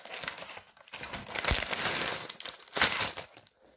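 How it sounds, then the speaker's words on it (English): Plastic bags from a LEGO Minecraft End Battle set crinkle and rustle close up during unboxing, in irregular bursts of handling with brief pauses. "It comes in two plastic bags"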